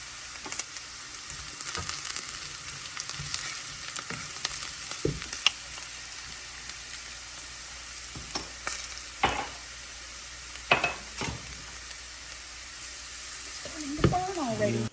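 Shrimp, sausage and vegetables with Cajun seasoning sauté in a very hot pan, giving a steady faint sizzle broken by scattered utensil scrapes and clicks, with a voice briefly near the end.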